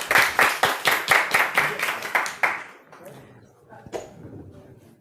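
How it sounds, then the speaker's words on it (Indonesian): Applause from an audience at a university faculty student event, a steady burst of clapping that fades out after about two and a half seconds, followed by quieter room sounds and a brief voice. "Tepuk tangan, tepuk tangan."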